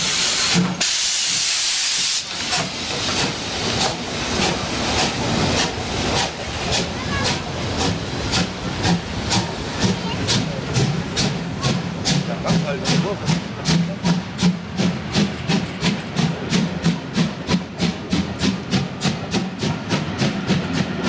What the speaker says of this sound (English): Here the loco departs Graben-Neudorf.